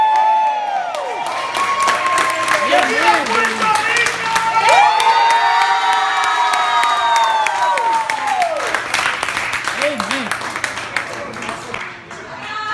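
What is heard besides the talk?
crowd cheering and shouting woo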